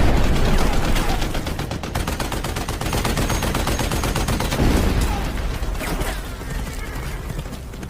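Rapid bursts of gunfire crackle in a dense, sustained volley, with heavier cannon shots booming in, loud and continuous throughout, from a film.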